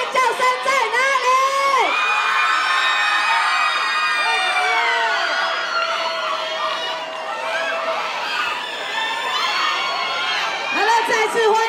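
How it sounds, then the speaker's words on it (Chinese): Young spectators at a college street dance festival scream and cheer loudly in sustained waves, with shrill whoops and shouts rising throughout and a voice calling out near the end. "你们的尖叫声在哪里？"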